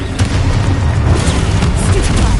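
The Confringo explosion spell in Hogwarts Legacy makes a continuous loud booming, crackling blast wash, dense and close, with small pops throughout.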